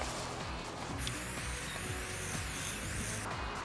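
An aerosol can of Plutonium spray paint hisses steadily as it lays a coat over a test panel marked with a black rectangle. The spray is continuous and fairly close, and a brief louder burst comes in the middle.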